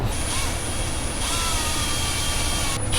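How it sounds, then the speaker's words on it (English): A steady, loud mechanical whine and roar runs unbroken throughout, a power drill boring out a hole during a Corvette air intake install, with a high tonal hum on top. "I'll drill this out and show you guys the results of that."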